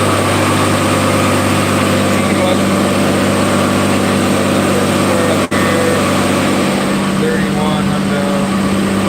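A Corvette engine held steady at about 3100 rpm on a chassis dyno, equal to 60 mph, giving a loud, continuous droning hum with even low harmonics and one brief dropout near the middle.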